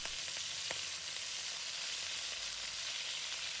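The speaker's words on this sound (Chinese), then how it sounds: "鸡翅入锅后，滋滋声响彻厨房" Chicken wings sizzle in hot cooking oil in a pan, a loud, steady, hissing crackle that runs continuously throughout with no voices.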